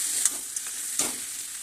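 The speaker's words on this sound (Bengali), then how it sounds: "মশলার সঙ্গে মাথাটা ভালো করে কষিয়ে নিলাম" A fish head sautés with stone-ground spices in a hot pan, under a steady close sizzle broken by a few sharp spatula scrapes and stirs.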